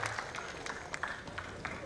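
An audience at a credit society's annual general meeting and musical night applauds, a brief spread of scattered clapping that sounds fairly distant and moderate in level.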